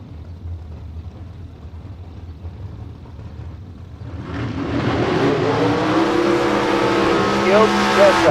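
A drag racing dragster at a bracket race gives a deep rumble. The roar rises and holds loud in the second half, with a public-address announcer talking over it.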